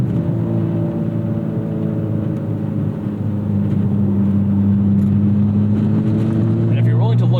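A sports car engine drones steadily from inside the cabin during driving, with loud, sustained low-pitched tones that shift slightly in pitch toward the end. No distinct throttle blips stand out.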